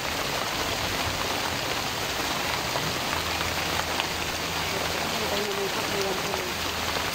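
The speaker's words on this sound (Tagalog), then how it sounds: "Ngayon lang yung lakad natin na umulan." Rain pours steadily during an outing at Paeng Falls, a dense continuous hiss of drops hitting surfaces close by, with people talking faintly underneath.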